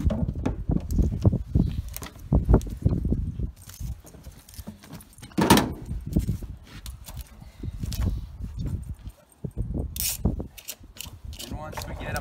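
Plastic caps are twisted and popped off triple-rinsed barrels, heard as close clicking, ratcheting and rubbing handling sounds that repeat irregularly through the clip.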